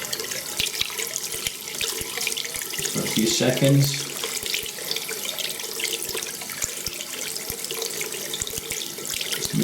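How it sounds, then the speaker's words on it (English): Tap water runs steadily into a bathroom sink to soak a Razor Rock Plus Soft shaving brush, a continuous close splashing hiss with a brief louder gush midway and someone talking briefly over it. "turn the water on"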